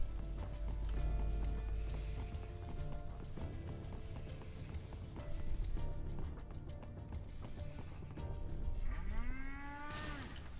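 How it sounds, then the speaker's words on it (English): A cow moos loudly several times over a busy Metal Gear Rising: Revengeance game soundscape with clopping hooves and background music, ending in a rising synthetic sweep. "It's mooing at me."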